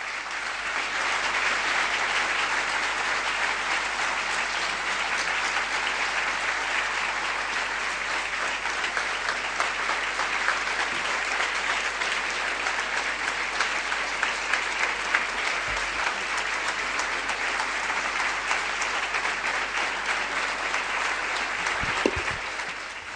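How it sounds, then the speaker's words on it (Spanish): Sustained applause from a church audience after a life testimony, a broad, even roar of many clapping hands that stays constant and fairly loud from start to finish, with no voices above it. "Estos aplausos son para Virgen María y para Dios, no para mí."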